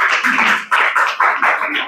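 A congregation at a Hindi Christian youth meeting claps hands in a rhythmic, fairly loud burst of about eight beats, with no talk over it.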